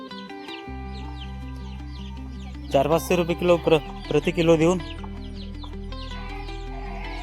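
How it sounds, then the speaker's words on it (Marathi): Desi free-range chickens on a poultry farm in Nagpur cluck in the background while someone talks over them, with a steady low hum running throughout. "सगळ्या गावरानी कोंबड्या"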